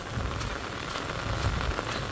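Steady rain pattering on a hard surface, a dense continuous hiss of drops with occasional louder splats, no voices.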